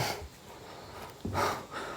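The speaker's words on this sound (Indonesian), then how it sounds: "Ada suara ngorok cok." Raspy, snore-like breathing in a supposedly haunted house, two drawn-out breaths with a rough low rattle, the second louder and swelling, close and fairly quiet, with no talk.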